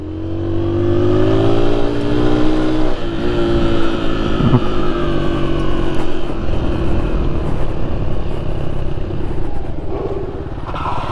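An Aveta Ranger Max Explorer motorcycle revs loudly while riding off-road, its engine droning steadily close by with pitch shifts as it accelerates and settles, and no voices are heard.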